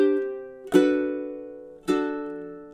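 A ukulele is strummed very slowly, two separate full chords ringing out and decaying clearly, played alone with no voice over them.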